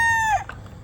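A short rooster crow tail ends abruptly, followed by soft clucking from hens nearby.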